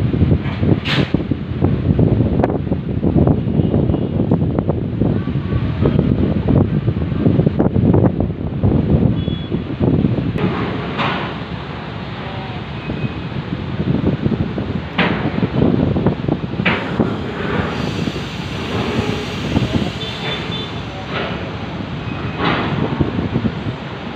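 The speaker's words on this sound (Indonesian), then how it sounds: "Sementara untuk cuaca agak sedikit mendung dan anginnya lumayan kencang." Strong wind gusts at Merak harbour under an overcast sky, a steady dense roar buffeting throughout, with occasional sharp knocks and clatters from the busy port over the rumble.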